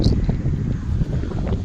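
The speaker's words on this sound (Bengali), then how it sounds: "হাওয়াটা আওয়াজে তোমরা বুঝতে পারছো তো কেমন হাওয়াটা দিচ্ছে" A strong wind buffets the microphone on a sea beach, a loud, continuous low roar and rumble that never lets up.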